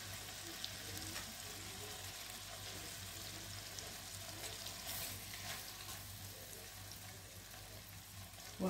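Meat for kebab hala sizzles in a very hot pan, a continuous soft frying hiss with a low steady hum beneath it. The sound is fairly quiet and even throughout, with a brief louder knock at the very end.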